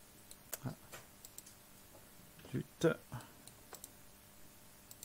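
Mouse clicks while working in 3DS Max rigging bones, a few sharp, quiet clicks scattered irregularly at close range with no talking.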